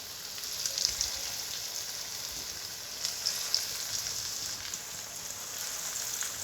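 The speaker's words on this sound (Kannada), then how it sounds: "ದೊಡ್ಡೂರಲ್ಲಿ ಇಕ್ಕಂಡೆ ಬೇಯಿಸ್ಕೊಳ್ಳೋಣ" Chicken kebab pieces frying in hot oil over a high flame, a steady bright sizzle with occasional louder spits and crackles, close and continuous with no voices.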